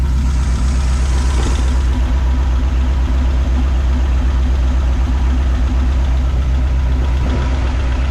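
A 76-year-old Pontiac engine idling smoothly, with a loud, close, steady low rumble and an even beat that carries on without interruption.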